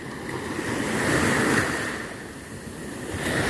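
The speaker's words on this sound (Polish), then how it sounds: "Ukołyszą mnie fale do snu." Ocean waves wash onto the shore of a quiet cove in Tayrona National Park, Colombia, in a steady rushing surge that swells and recedes, with a breezy hiss over it and no voices.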